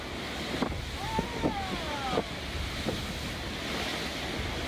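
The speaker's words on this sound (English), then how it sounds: "Massive waves continuously surged onto the shore, sweeping away a vehicle trapped in the raging water." Massive waves surge onto the shore in a storm, sweeping away a trapped vehicle. A continuous roar of surf and gusting wind buffets the microphone, with a few faint whistling tones above.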